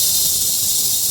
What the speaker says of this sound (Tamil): பச்சைப்பயிரை இதே மாதிரி வறுபட்டு எடுத்துக்கலாம்.